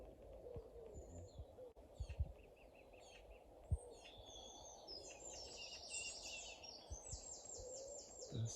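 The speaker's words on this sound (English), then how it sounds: "Burst of Wren song behind us" A wren delivers bursts of high, rapid trilling song at dawn from low in dense vegetation, set among other distant birds in the morning chorus over faint rumbling background noise.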